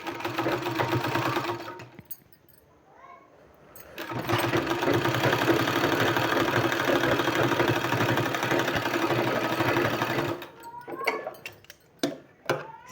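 Sewing machine stitching a 3-inch-wide pink fabric strip for a beaded sleeve design: a fast, even mechanical whirr running in bursts, loud and close, with short pauses and clicks between runs and no talking.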